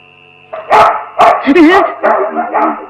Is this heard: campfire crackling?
no